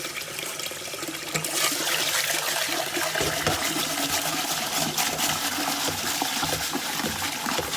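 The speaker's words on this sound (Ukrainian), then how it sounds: "Промиваємо другий раз." Rice being rinsed a second time in water, a steady sloshing and trickling of water that runs continuously and fairly close throughout, with no talk.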